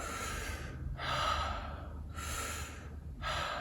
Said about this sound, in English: we'll take them into the journey of circular breathing to their comfortable breathing